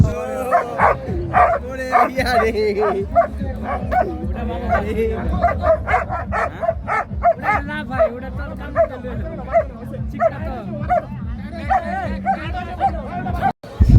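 Several dogs bark repeatedly at a livestock exhibition, sharp close barks and yips over a busy crowd babble, with people talking nearby.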